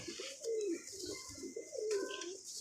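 Pigeons cooing close by: two rolling, throaty coo phrases, each rising and falling, with a short pause between them and no voices.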